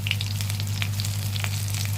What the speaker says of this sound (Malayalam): ഞങ്ങൾ ഈ പരുവാക്കിയെടുത്ത് ഞങ്ങൾ ഇട്ട് ഞങ്ങൾ പൊരിക്കുന്നു